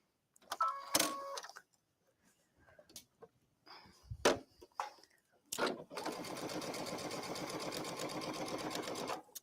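A sewing machine runs a basting stitch with the needle in the center position. A few light handling clicks come first, then a close, steady mechanical whirr plays alone for the last few seconds.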